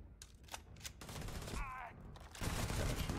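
Gunfire in the video game Starfield during a firefight with grenades nearby, a fast, busy burst of shots and impacts running throughout, louder toward the end, with no talk.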